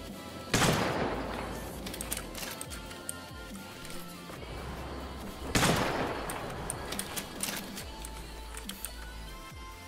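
Two loud gunshots in the Roblox game Jailbreak, each a sharp broadband crack about five seconds apart, followed by a decaying rumble over steady game background noise.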